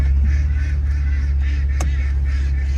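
Farm ducks and chickens call in repeated honking, nasal bursts over a steady low hum, fairly close and continuous with no talking.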